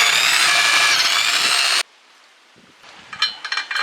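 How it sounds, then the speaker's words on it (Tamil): A power drill bores holes in a metal bearing plate for a coconut de-husking machine. A loud, steady, high whine cuts off abruptly, followed by quiet clattering and faint scraping. "மார்க் பண்ணியிருக்க இடத்த வந்துட்டு நம்ம ட்ரில் பண்ணி ஓட்ட போட்டுக்கலாம்."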